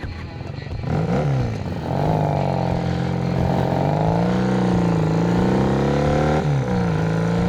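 A 1980 Honda CB 400 N motorcycle set up as a scrambler pulls away, its engine revving up through steady, rising and falling tones, close and loud throughout.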